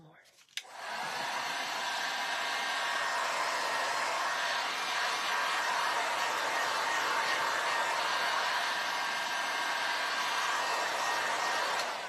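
A hair dryer switches on with a click and runs as a steady, even whoosh for several seconds, blowing to dry wet paint on a rustic sifter craft, close and alone without talk.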